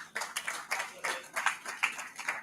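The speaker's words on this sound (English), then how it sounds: "Will please clap for each of them." Audience applause at a Liberian presidential election debate in 2023, a short burst of brisk, steady clapping from a crowd filling the room with no voices over it.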